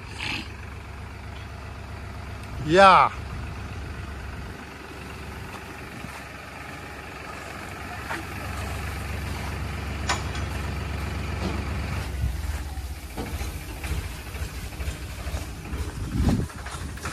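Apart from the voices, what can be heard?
tractor engine idling while hydraulic lift raises the trailer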